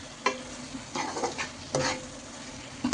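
Food being stirred in a frying pan of brinjal curry after salt goes in, with a steady sizzle beneath several scraping strokes of the spoon, close and fairly quiet.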